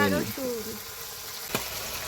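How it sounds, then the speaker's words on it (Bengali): Onions and tomatoes frying in a pan give a steady, soft sizzle throughout, with a voice speaking briefly at the start. "পেঁয়াজটাও সুন্দর করে ভাজা হয়ে যাচ্ছে, তাই না?"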